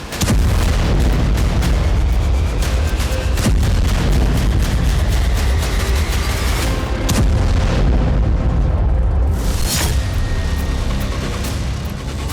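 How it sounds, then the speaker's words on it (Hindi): A HIMARS rocket strike hits Seletso in Bryansk, producing loud, continuous booming and rumbling explosions with repeated sharp blasts for the whole stretch, and no talking. "ब्रियांस्क के सेलेत्सो में हाइमर्स से हमला किया गया"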